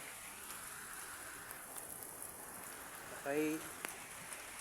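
Rain falls steadily in the countryside, a soft, even hiss throughout, with a voice briefly speaking near the end.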